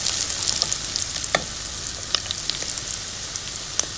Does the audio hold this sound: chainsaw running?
no